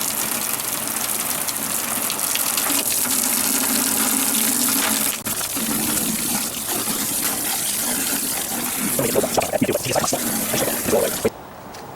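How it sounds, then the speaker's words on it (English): A water sprayer hisses and gushes continuously during cleaning, loud and close, with the spray's tone shifting as it moves and a brief break near the end. "You don't really need to blast the crap out of it with a sprayer."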